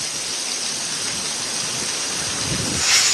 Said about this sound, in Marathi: डहाणूसह परिसरामध्ये पुन्हा एकदा वादळी वाऱ्यासह पाऊस झाला